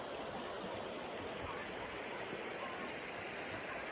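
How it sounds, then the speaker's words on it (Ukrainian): The mountain river Opir rushes in a steady, broadband roar of flowing water, close and continuous with no breaks. "Шум цієї води гірської річки, річка Опір."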